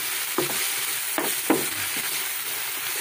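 Ground pork or beef giniling being stirred and sautéed in a hot pan with a little salt, a steady sizzle with a few distinct scraping stirs of the spatula, close and alone.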